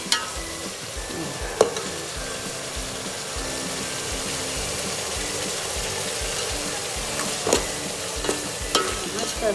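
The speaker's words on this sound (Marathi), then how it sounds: "दहीमध्ये आपण मसाले टाकून तयार केलेलं ते आपण आता मस्त याच्यामध्ये मिक्स करून जरा तेल सुटेपर्यंत आपण शिजवून घेणार आहोत" Vegetable gravy mixed with spiced yogurt cooks in oil in a pan for veg pulao, giving a steady close sizzle with occasional scraping stirs and clinks of a spoon.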